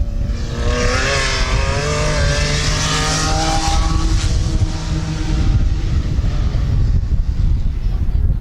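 Race car number 00 roars through a qualifying run at Midvale Speedway, its engine a steady, loud drone that holds for the whole stretch while it passes, with wind buffeting the microphone.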